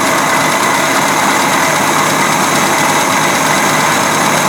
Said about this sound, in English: We're looking for a smooth, steady idle.